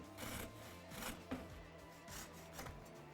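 Sawing through the end of a plastic dirt bike throttle tube while fitting Tusk D-Flex Pro handguards, a faint steady rasping with repeated back-and-forth strokes, close and quiet with no talking.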